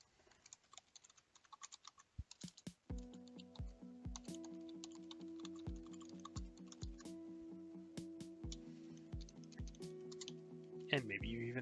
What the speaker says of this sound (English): And maybe you even type it right.